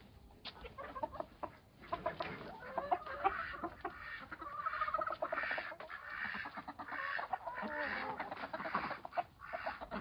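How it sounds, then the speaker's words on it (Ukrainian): Several chickens cluck and murmur continuously nearby, with overlapping calls rising and falling in a busy, uneven rhythm. "Лялю, переймай курей."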